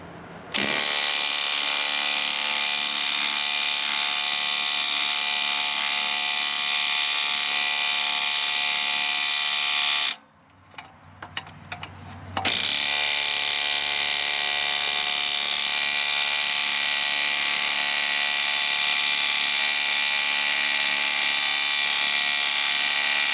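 An impact wrench hammers steadily on a 21 mm inner tie rod of a 2005 Sport Trac, a loud continuous buzzing rattle that pauses briefly for a couple of seconds of clunking before resuming at full force.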